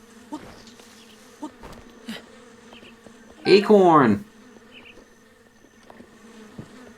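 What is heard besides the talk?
bees buzzing in the video game Zelda: Breath of the Wild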